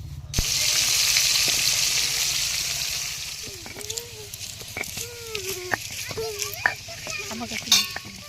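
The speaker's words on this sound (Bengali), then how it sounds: "আমার কিন্তু এখন মাছ ভাজা চলছে" Fish frying in oil in a home kitchen in the Sundarbans gives a hissing sizzle, strongest in the first few seconds, then continuing under a woman's nearby chatter with occasional clinks.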